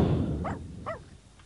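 Two dogs in The Sims 2 video game give short barks, a few brief yaps spaced apart over a low background hum, fairly close and moderately loud.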